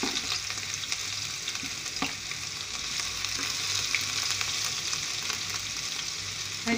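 Ginger garlic paste and green chillies sizzle in hot oil with cumin, a steady close crackling fry with occasional stirring scrapes throughout.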